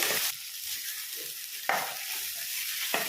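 Pumpkin pieces frying in a pan with steady sizzling, broken by three sharp bursts of stirring scrapes, close and fairly loud with no talking.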